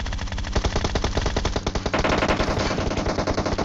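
Rapid automatic gunfire from the mobile battle-royale game PUBG Mobile, a loud unbroken burst of machine-gun shots at a fast, steady rhythm that continues throughout.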